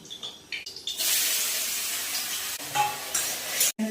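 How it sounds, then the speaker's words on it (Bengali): Turmeric- and salt-coated taro pieces hit the hot oil in a pan and burst into loud frying that holds steady for a few seconds, with stirring clatter at the start and end. "মাখিয়ে আমি কচুটাকে এবার ভেজে দেবো, লাল লাল করে ভেজে দেবো।"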